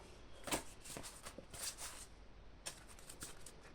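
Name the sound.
shuffling and drawing tarot cards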